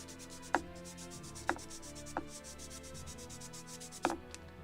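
Sandpaper rubbing on a wooden spar for a Model Shipways kit of the 1776 gunboat Philadelphia, quiet rhythmic scraping strokes with a few sharper taps, close up and faint, no speech.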